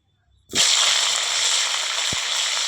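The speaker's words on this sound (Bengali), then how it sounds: "দেখো তেলগুলো ফুলকপিগুলো ভেজে নেব" Cauliflower dropped into leftover hot oil after frying potatoes, which bursts into a loud, steady, close sizzle after a brief quiet start and keeps hissing evenly to the end.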